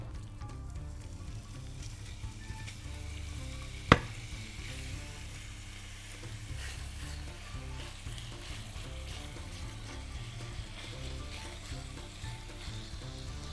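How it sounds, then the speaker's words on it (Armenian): Chicken sizzles steadily in a hot oiled pan, a constant crackling fry with one sharp clink of a utensil early on. "հիմա արդեն պետք է հավը տապակենք"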